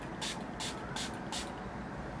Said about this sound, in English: I'm using this coconut toner and I'm just going to spray it on a cotton pad.